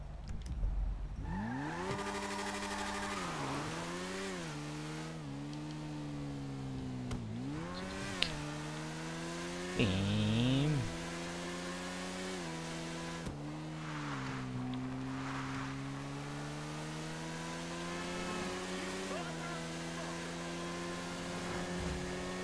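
Motorcycle engine in GTA V Online on Xbox One, revving and shifting repeatedly, with rising and falling pitch as the bike accelerates and eases off, loud and close throughout, with a brief harsher burst midway.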